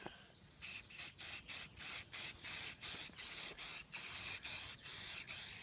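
Rapid bursts from a spray can laying a Plasti Dip coat onto a Mustang GT, about a dozen sharp, evenly spaced hisses close to the nozzle, each cut off by a brief pause.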